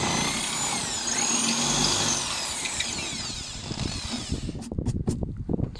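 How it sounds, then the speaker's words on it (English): A power drill or driver works on the license plate fixings of a 4x4, whirring steadily at close range for several seconds before stopping, followed by a few clicks and knocks of handling. "So yeah, first job, getting the license plate off."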